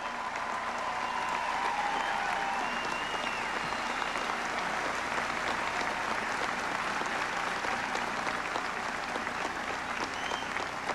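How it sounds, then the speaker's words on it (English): Sustained applause for Senator Dole from a large election-night crowd, a dense even roar of clapping with faint cheers mixed in, continuing at a steady level throughout. "I ask you to join me in applause for his lifetime of service to the United States"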